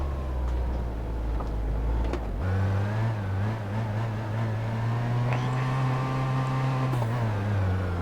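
Ibishu Covet diesel car in BeamNG.drive, its engine droning steadily and then rising in pitch as it accelerates after a gear change, loud and close throughout with no talking.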